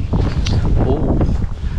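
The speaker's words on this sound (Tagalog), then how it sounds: "Medyo mahangin po ngayon guys." Blustery wind gusts across a beach on the Spanish coast at the end of summer, rumbling steadily and loudly against the microphone throughout with no pause.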